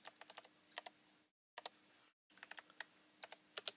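Quick bursts of crisp keystrokes on a computer keyboard as a terminal command is typed, heard close and quiet in short irregular runs split by two brief silent pauses.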